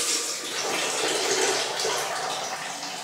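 Steady, fairly loud stream of water running from a MonH2O filter faucet tap set to the hot side, a continuous broadband rush that keeps going for the whole stretch without pause or voices.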